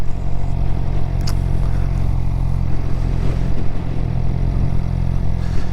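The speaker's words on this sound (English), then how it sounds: "listen to that engine just purr away. It just purrs." A 2023 Suzuki GSX-R600 sport motorcycle engine idles steadily with a low, even rumble, close by and continuous, with a faint click partway through.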